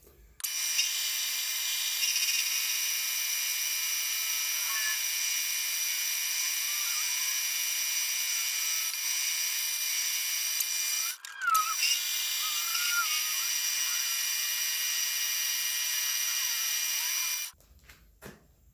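A metal lathe set up with a fixture plate mills a 1.5-inch keyway on a steady rest part, taking a 30-thou pass: a steady high-pitched whine runs loud and continuous for about 17 seconds, with a brief dip partway through, then stops.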